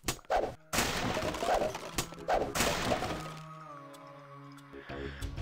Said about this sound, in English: Oh, yeah, I can hear the shooting.